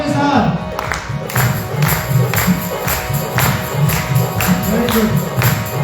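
A congregation at a Sunday church service claps along in a steady rhythm, loud and close, with crowd voices and singing blended in throughout.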